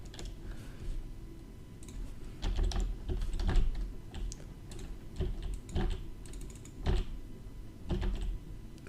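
Typing a website URL on a computer keyboard, with close, uneven bursts of key clicks and heavier thumps that come in quick clusters with short gaps between them.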